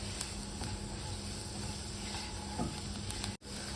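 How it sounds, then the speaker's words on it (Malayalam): Food sizzles steadily in a hot pan, a continuous frying hiss that cuts out briefly near the end. "ഇത് കരിഞ്ഞു പോകാതെ വറുത്തെടുക്കണം"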